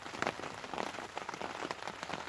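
Heavy rain pours down steadily outdoors at a fishing spot, a dense, even hiss of drops striking surfaces with no voices.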